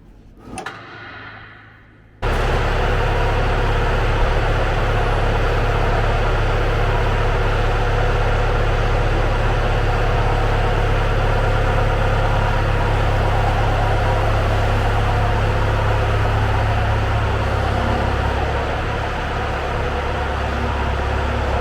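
A Massey Ferguson 1155 tractor's diesel engine idles with a loud, steady, close rumbling drone that starts abruptly after a quieter opening and runs unbroken to the end.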